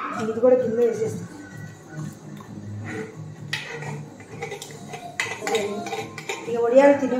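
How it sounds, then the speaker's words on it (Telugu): A cooking pot set down among dishes, clattering metal knocks and clinks of pots and utensils close by, with a person talking over the sounds. "ఇది కూడా గిన్నె వేసేస్తాను."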